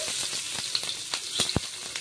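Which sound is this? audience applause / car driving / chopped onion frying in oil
chopped onion frying in oil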